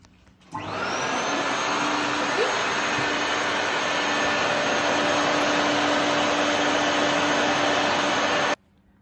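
A silkscreen printing machine switches on and runs with a loud, steady whooshing roar, holding for several seconds before cutting off abruptly.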